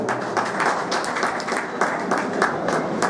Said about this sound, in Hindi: आप सभी लोग एक जोरदार ताली हो जाएं।